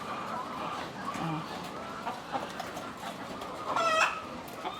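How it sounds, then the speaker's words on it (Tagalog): Backyard chickens clucking near pigs on a small farm, soft scattered clucks with a brief louder call near the end, over steady outdoor background noise. "Ito naman po yung mga manok namin na lowman, yung lahi."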